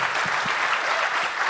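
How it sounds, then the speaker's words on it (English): Audience applause for panel speakers at a Brew Talks session at CBC 2016, a short, dense wash of clapping lasting under two seconds with no speech. "Round of applause for these guys."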